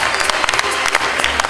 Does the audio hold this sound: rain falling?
no